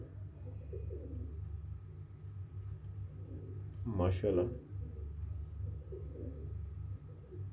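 Pigeons coo softly over a low steady rumble, with a person speaking briefly in the middle.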